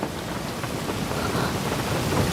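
Steady, dense rain falls outside, a constant hiss and patter of drops holding at an even level throughout, with no voices over it.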